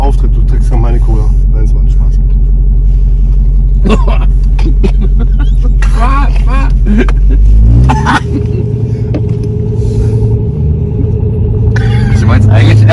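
A deep, steady V8 engine rumble from a Dodge Challenger Hellcat sits close and loud beneath people talking, shifting in pitch midway as the motor settles into a lower idle.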